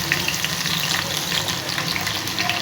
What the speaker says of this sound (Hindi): घी को मैंने गरम रख दिया है, घी मैंने देसी लिया है। इसमें प्याज पहले शामिल कर दिए